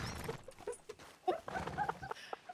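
Horse hooves clopping in the western roleplay game RedM, a short run of quick, light knocking steps close by.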